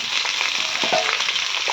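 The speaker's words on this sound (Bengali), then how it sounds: "আমি এখানে কড়াই গরম করে আলু ভাজা বসিয়ে দিয়েছি।" Potatoes fry in a hot wok, a steady close sizzle with light crackles and faint stirring scrapes running throughout.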